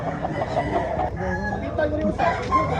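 A rooster crows amid a busy gamecock expo in Consolacion, Cebu, its call rising over crowd chatter and background bustle.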